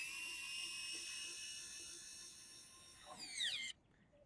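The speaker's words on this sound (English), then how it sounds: "we have a little hand tool that makes screwing in our screws a little easier" A small powered hand driver whirs steadily while driving M6 screws into a Fliteboard eFoil mast, a faint high-pitched whine that rises briefly in pitch and then cuts off.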